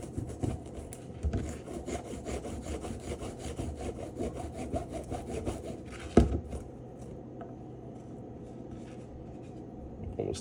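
A garlic clove is rubbed hard against the cut face of a half baguette for zucchini soup, giving a steady dry rasping scrape in quick back-and-forth strokes. It is close and alone, with one sharper knock partway through.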